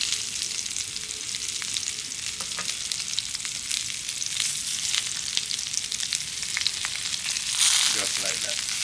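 Garlic and scallion sizzle hard in coconut oil in a cast iron pan outdoors beside rib eye steak, a loud, close, continuous crackle with sharp pops and a brief surge of hissing near the end.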